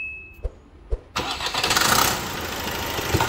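After a clutch and flywheel replacement, a car engine is started: a few clicks, then the starter cranks, the engine catches and settles into a rough, steady idle close by, with no talking.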